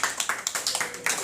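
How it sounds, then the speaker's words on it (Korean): An audience at a church gathering claps in a burst of quick, fairly close, irregular hand claps. "동의하시면 박수 한번 쳐주세요."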